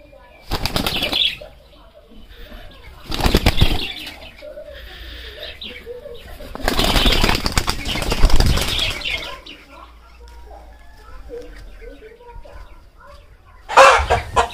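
Roller pigeons tossed into the air beat their wings in several loud, rushing flapping bursts, with soft bird calls between them outdoors.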